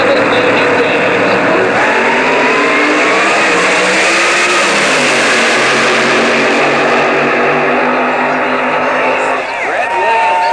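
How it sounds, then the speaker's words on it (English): A drag racing car engine revs loud and continuous at the 1988 NHRA Winternationals in Pomona, a harsh roaring drone that sweeps in pitch while an announcer talks over it. "Mike Andriotti clearing out the engine"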